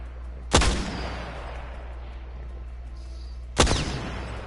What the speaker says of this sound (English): this thing shoots 3 shots at once